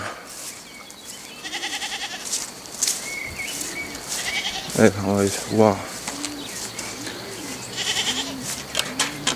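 Goats bleat several times in wavering calls outdoors in a June vegetable garden, with birds cooing nearby and a person speaking briefly over them.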